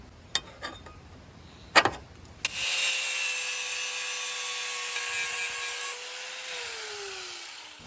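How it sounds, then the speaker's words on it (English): Angle grinder starting up on a rotted GMC truck frame, cleaning the metal for welding: a few sharp knocks, then a steady high whine that dips in pitch near the end as the disc bears down. "I'm gonna grind along right here as well so that that's got a good surface to weld to"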